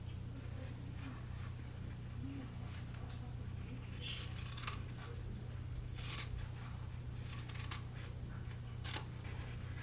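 Sharp scissors snip into sewn fabric seam allowances on a zippered project box, a few short crisp cuts spaced apart over a steady low hum.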